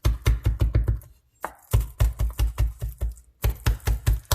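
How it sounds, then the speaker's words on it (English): Seaweed being chopped with a knife on a cutting board for an ahi tuna dish, a fast run of sharp, close knocks in bursts with brief pauses between them. "I just like to chop it up a little bit."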